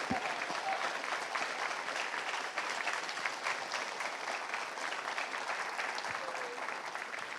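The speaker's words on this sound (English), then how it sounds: "I'd like to give you guys a round of applause." A school spring drama audience gives the stage crew sustained, even applause after a performance of The Importance of Being Earnest, heard from a little distance and fairly quiet, lasting several seconds without a break.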